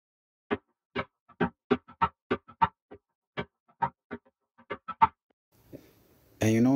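An Afro beat percussion loop programmed in FL Studio plays as a sparse run of crisp, close hits in an irregular syncopated pattern, followed by a brief burst of other sound at the end.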